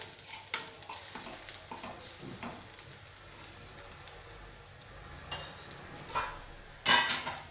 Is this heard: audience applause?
no